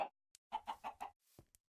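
Chickens in the Minecraft video game give a short run of clucks, several quick close calls in a row with a couple of brief clicks around them, clear and alone without talk.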